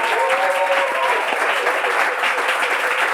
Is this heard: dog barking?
no